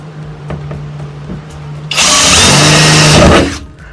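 A power drill bores a hole through the metal roof of a Mercedes Sprinter van during a roof fan install, running loud for about a second and a half before winding down, with a faint hum before it.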